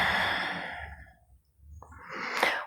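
A long, soft exhale during a yoga pose in a hip-healing class, a breathy sigh trailing off, a brief pause, then a sharper intake of breath near the end.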